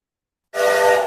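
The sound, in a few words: ship whistle sound effect for cargo ship animation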